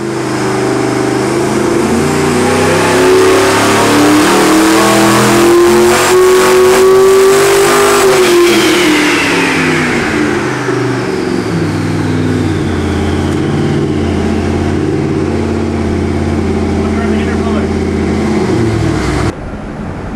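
Nelson Racing 632 cubic inch twin-turbo engine with stainless headers revving hard on a dyno, a loud roaring pull that climbs in pitch, then eases back into a deep rumble with turbo whine, close and overpowering.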